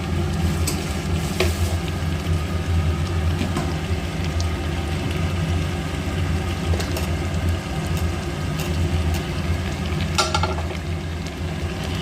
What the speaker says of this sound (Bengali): আমি ভালো করে এবার একটু উপর নিচ করিয়ে নেব যাতে একটু ভালো করে আলুটার সঙ্গে যাতে একটু কষানোটা হয়ে যায়